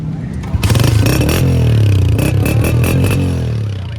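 A black Honda motorcycle engine idling and revving close by at a bike market in Karachi, a steady rumble that rises and falls over a few seconds.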